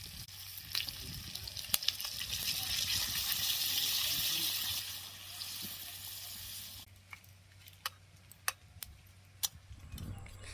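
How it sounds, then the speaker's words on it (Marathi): Water poured into a pan of sizzling tilapia curry with coriander, a broad hissing sizzle that swells for several seconds and then settles into quieter bubbling with scattered small ticks and clinks. "पाणी पण ओतून घेते आता."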